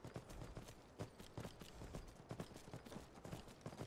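Horse hooves clip-clop at a steady trotting rhythm in the video game Skyrim while riding the spectral horse Arvak, each hoof strike crisp and close, with no talking over them.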